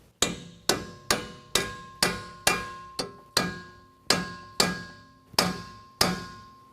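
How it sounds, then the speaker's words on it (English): A mini sledge hammer taps splined bolts into place while a Superlift 2.5-inch lift kit is fitted to a 2022 Ford Maverick. About a dozen loud, evenly spaced metallic strikes ring out, each with a short ringing decay. "because these bolts are splined at the end, we can go ahead and tap them in place with a little mini sledge"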